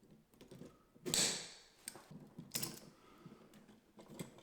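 Electrical wire has its insulation stripped during a bathroom fan timer switch install, with two sharp close snips or pulls and quieter clicks and creaks of the tool between them.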